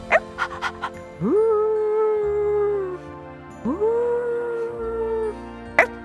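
Two long rising wolf howls in a puppet show, each sliding up and holding steady, with a few light jingling taps before and after.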